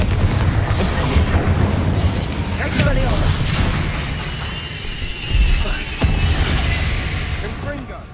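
Bombarda spell explosions in Hogwarts Legacy, deep booming blasts under a spoken incantation, with another heavy thump near the middle and dense combat noise throughout.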